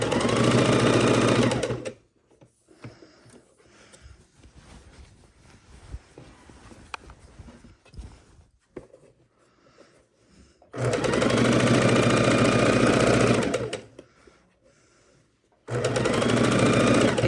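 A sewing machine stitches the binding on a quilt in two loud, steady bursts, the first running about two seconds and the second several seconds long, with a quiet gap of faint handling noise between them.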